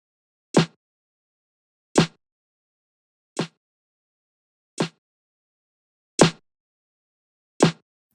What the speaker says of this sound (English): And then with the glue compressor and EQ, it sounds like this.